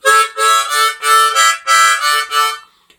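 Harmonica chugs out a rapid train rhythm, breathy chords pulsing in quick alternating puffs like wheels on a track, loud and close.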